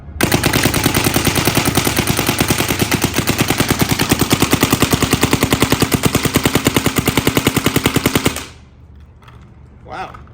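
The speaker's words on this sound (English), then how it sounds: "Last thing to do is let's put some paint through it and see how it shoots," An SP Shocker ERA paintball marker fires a fast, unbroken string of evenly spaced, loud, close pops for about eight seconds, then stops sharply, leaving a quiet background with a faint thump.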